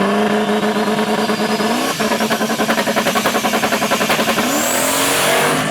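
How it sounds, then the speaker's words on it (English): A street car launches at a drag race with a loud, close engine howl. The rising revs give way to a rapid pulsing rattle and then climb in pitch as the car pulls away. "Look at Depew, a wheels up launch, but that gives driver B team a chance they needed"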